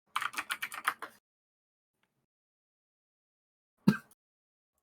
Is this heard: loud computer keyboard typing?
yes